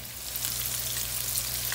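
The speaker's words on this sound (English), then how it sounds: "We got the sizzle." Rainbow trout, slit along the sides, sizzles loudly and steadily as it pan fries in hot oil, a close continuous crackle with no talking.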